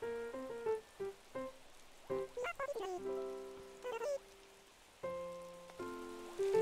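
Steady heavy rain hisses in the background of Animal Crossing: New Horizons, underneath bright, melodic game tones and chirpy character sounds that hop in short phrases.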